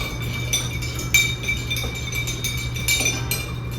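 Absinthe stirred in a glass to dissolve a sugar cube, a spoon ringing against the glass in a rapid series of bright, close clinks.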